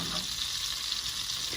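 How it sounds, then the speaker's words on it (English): Butter melting in a pan gives off a soft, steady sizzle and hiss, quiet and even across the short stretch with no voices. "We're going to melt this butter"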